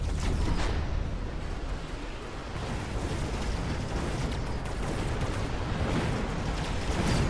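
Continuous bombardment in the mech strategy game Mechabellum: dense, loud crackling explosions and bursts layered into a steady roaring wall of battle noise, with a few sharper pops standing out.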